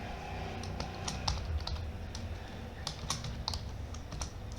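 Quick tapping on a computer keyboard while a folder name is typed, a steady patter of light clicks with some sharper keystrokes over a low background hum, no talking.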